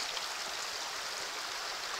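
Neal's Creek on the Ozark Trail in March, water flowing and splashing in a steady, close broadband rush during a hiking crossing, with no talk.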